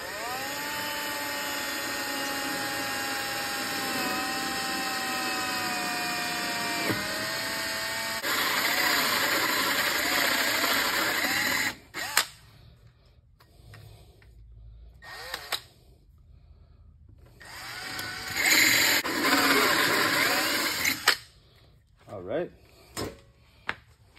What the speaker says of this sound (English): All right, let's drill the hole.